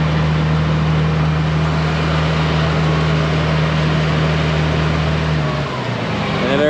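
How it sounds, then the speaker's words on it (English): A farm tractor engine runs steadily at a dairy barn during cow feeding, a loud, close, constant drone with a low hum that shifts near the end, with no talk over it. "once they hear the tractor coming, they just mosey on out of the way"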